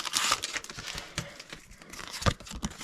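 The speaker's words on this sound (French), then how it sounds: "On va déballer tout ça." Plastic wrapping on a Pokémon card display box is torn and crinkled open, giving short close bursts of crackling and ripping with brief pauses between them and no voices.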